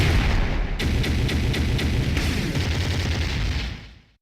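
Loud, continuous barrage of booming blasts and crackling bursts in the video game Hyper Princess Pitch, densely layered for about four seconds before cutting off, like chaotic arcade-style explosions.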